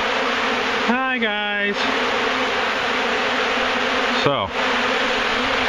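Honey bees buzzing during a hive removal in Wellington, Florida, a dense steady swarm hum with individual bees zipping close past the microphone, while someone speaks briefly.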